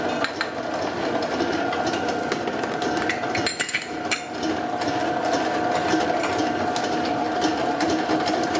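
An electric mixer turning at reduced speed through eggless pineapple cake dough in a steel bowl: a steady, continuous mechanical whir with rattling, clattering texture, running unbroken and fairly loud without any speech.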